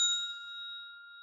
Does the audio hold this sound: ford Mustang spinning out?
no